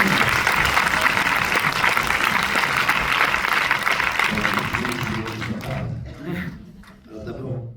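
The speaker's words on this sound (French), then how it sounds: "j'aimerais qu'on vous applaudisse" Dense, sustained applause from a cinema audience at a Pathé screening of Jouer avec le feu, honouring actor Vincent Lindon with the film team present; it fills the room for several seconds, then tapers off as a voice starts speaking.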